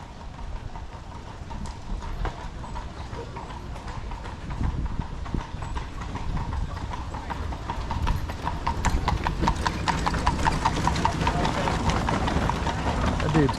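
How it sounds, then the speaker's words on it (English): Horse-drawn carriage in Colonial Williamsburg, hooves clip-clopping in a steady rhythmic trot that grows louder and closer, with wheels rolling underneath and people talking over it. "Gonna take a little carriage ride."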